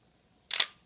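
A Minolta X700 single-lens reflex camera gives one short, bright electronic beep around the middle, close and clear against an otherwise quiet background.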